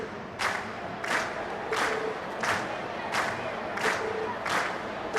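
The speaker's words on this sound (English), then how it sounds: "And we've heard your cheers loud and clear." A crowd in the Trails of Cold Steel video game cheers in rhythmic bursts, about seven loud swells of shouting and applause evenly spaced over a softer crowd bed.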